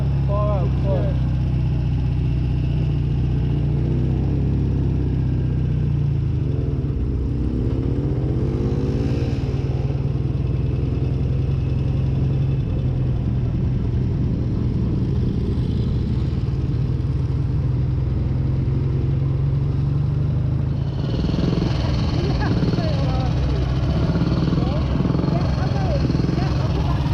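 A classic motorcycle engine runs continuously while riding in second gear, a loud low droning note with small changes in pitch, under talk throughout.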